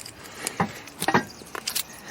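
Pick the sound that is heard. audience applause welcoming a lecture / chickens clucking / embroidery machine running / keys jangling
keys jangling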